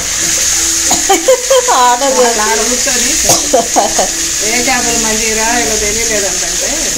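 Marinated Kerala fish sizzles steadily in hot oil during a home barbecue, a loud constant hiss running underneath people talking in the foreground.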